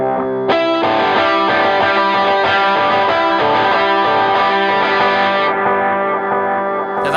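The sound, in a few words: electric guitar through blues driver overdrive and delay pedal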